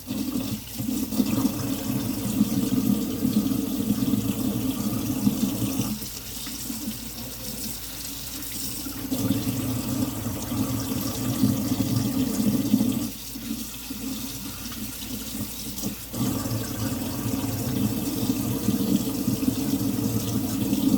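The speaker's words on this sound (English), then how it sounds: "rinse the mushrooms off with the strainer" Tap water running steadily into a sink while mushrooms are rinsed in a strainer, a constant splashing rush that briefly dulls twice as the flow is blocked or shifted, close and alone without talk.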